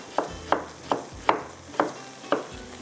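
Onions go into a pan for bhindi achari masala, sizzling in oil while a spoon stirs them in six steady, evenly spaced scraping strokes, close and moderately loud with no talking.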